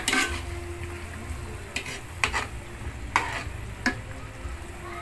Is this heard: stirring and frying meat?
yes